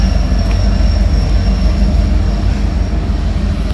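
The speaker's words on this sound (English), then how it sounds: "There's a real train next to us" Steady low rumble of a train rolling close by, continuous and loud with a faint high whine above it, no voices.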